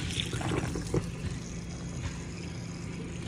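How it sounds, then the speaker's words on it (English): Water runs into an RV's fresh water tank, a continuous low gurgling rush with a few brief splashy bursts near the start, close and moderately loud. "I don't know if you can hear it on camera, so I'm gonna take this out a little bit so you can see the water filling up"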